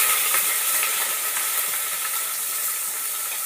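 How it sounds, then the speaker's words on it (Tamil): Onions frying in hot oil for a mushroom biryani, giving a steady, dense sizzle and hiss that stays loud and even throughout, with no voices. "நல்லா பொரிஞ்சதும் வெங்காயம் சேர்த்துடலாம்."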